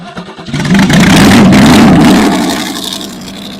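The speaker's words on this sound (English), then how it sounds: "so it does start right back up once I put a wrench in the choke" A Chevy 283 small-block V8 starts up and revs with the choke held partly open, a quick cranking catch swelling into a loud, rough roar that settles back toward a lumpy idle, close and without talk.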